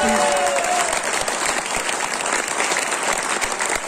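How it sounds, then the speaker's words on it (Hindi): Audience at an award ceremony in Burari, Delhi giving loud applause for Pattu Ram ji; a dense burst of clapping lasting a few seconds, close and steady. "एक बार जोरदार ताली पत्तू राम जी के लिए जरूर दीजिए"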